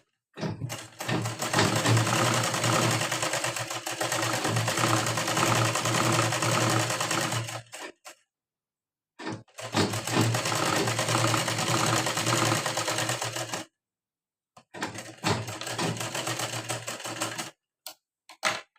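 A sewing machine stitches a blouse strip in three long continuous runs with a steady mechanical whir, separated by brief silences, loud and close.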